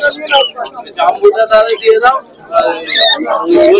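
A crowd of caged birds at the Uluberia pet market chirps, tweets and coos nonstop close by, with a voice talking over the busy chatter.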